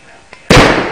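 Aerosol deodorant cans and lighters thrown into a campfire go off: a faint click, then one sharp, loud explosive burst that decays quickly, amid nearby voices.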